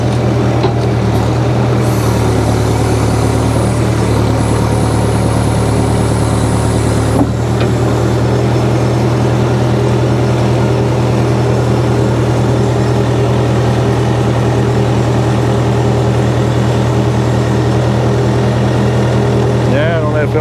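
A 1966 Case backhoe engine runs steadily in a loud, low drone while it loads junk during a house teardown, with a brief clank partway through.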